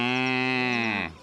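A single long, steady cow moo, close and loud, holding one sustained tone for about a second before cutting off, with no other sounds around it.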